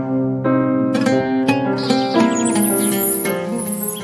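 A hoopoe bird calling: bright, tonal chirps and whistled notes come through loud and close, rising and layered over a steady background, with no voices.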